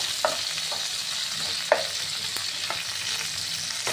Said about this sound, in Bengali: এবার এই তেলের মধ্যে এই টমেটোগুলো কুচিয়ে রেখেছি দিয়ে দিলাম।